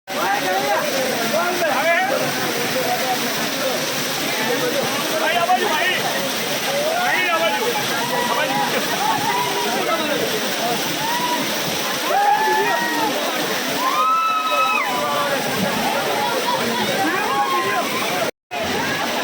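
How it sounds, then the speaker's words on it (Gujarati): Continuous rushing, splashing water of Paniyari waterfall in Gujarat during the monsoon fills the scene at steady loudness, with people talking and calling out over it throughout. "દેખો પાછળ આ ધોધ છે"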